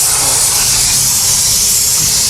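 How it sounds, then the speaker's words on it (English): A steam cleaner used for car interior detailing blasts a loud, continuous hiss of steam with no pauses or voices. "So that is kind of disappointing with this steam cleaner here."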